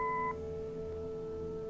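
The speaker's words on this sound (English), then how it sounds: "Leave a message after the beep." A short electronic answering machine beep from a video game, steady and clean, lasting about a third of a second, followed by quiet low hum.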